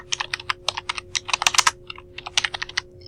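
Rapid typing on a computer keyboard while entering notes in CAD software, a close, steady patter of crisp key clicks in uneven bursts with short pauses between words.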